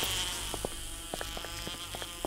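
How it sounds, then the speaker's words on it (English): A giant bee in the survival video game 7 Days to Die buzzing in short, repeated bursts close by, with faint game ambience underneath and no talk. "That's a bee. That's a giant bee."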